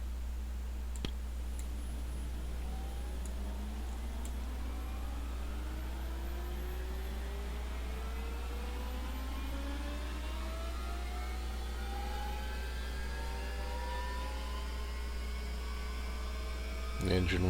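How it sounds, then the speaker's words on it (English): A Bell 412 helicopter's engine 1 starts up in X-Plane 11: a steady low hum with turbine whines rising and climbing in pitch throughout, and faint clicks near the start. "Engine 1 is starting up nicely."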